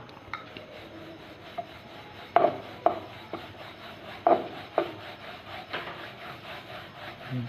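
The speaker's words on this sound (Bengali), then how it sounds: "এবার একটা করে বেলে নিচ্ছি" Paratha dough for dhaba-style aloo paratha is rolled out with a wooden rolling pin, producing a series of soft rubbing strokes and light knocks in a loose, repeating rhythm, close and clear, without talk.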